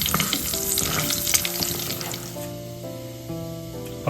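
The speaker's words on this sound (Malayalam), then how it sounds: "നമുക്കിനി അത് വറുത്ത് പോരാട്ടോ." Okra sizzling in hot oil in a pan while frying for Kerala-style okra mappas, a loud, steady crackle with occasional stirring scrapes and no talk.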